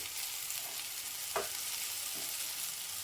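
Bitter gourd slices frying in a pan, a faint, even sizzle and hiss throughout with one brief scrape of a spatula near the middle, quiet and undisturbed.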